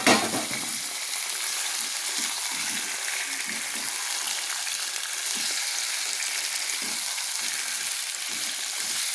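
Chicken marinated in salt and turmeric sizzles and fries in a pan with garlic, ginger, green chillies and coriander leaves, giving a steady close hiss with soft crackles throughout and no talking.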